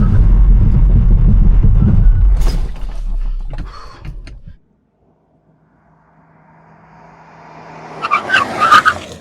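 A petrol SUV brakes hard from 100 km/h, its tires skidding loudly in a rough roar that cuts off abruptly, followed by near silence and then a building engine and tire noise.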